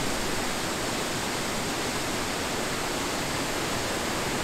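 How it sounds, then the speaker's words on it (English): A waterfall in Taiwan roars as a dense, steady rush of falling water, loud and unbroken for the whole stretch with no voices. "we just got to the waterfall now"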